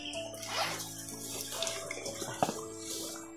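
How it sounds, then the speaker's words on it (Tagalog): Water flows in a stream at a hidden forest camp, a close, steady gurgling and splashing with small bubbling pops over a few seconds. "May tubig na dumadaloy."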